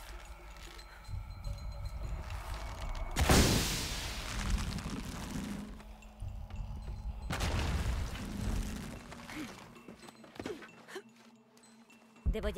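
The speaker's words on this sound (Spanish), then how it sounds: "Necesito provocar una explosión. Vale, desde aquí la provocamos, ¿no?" In the Shadow of the Tomb Raider video game, a triggered explosion rumbles as two heavy booms with rolling low-end tails, loud and close amid game ambience.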